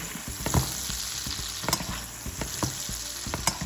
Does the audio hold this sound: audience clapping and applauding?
no